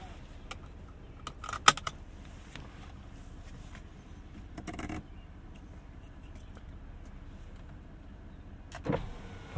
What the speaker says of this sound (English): Pop up the windows for sound.